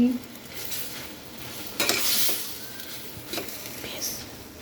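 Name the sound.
cooked rice being mixed into tomato masala in pan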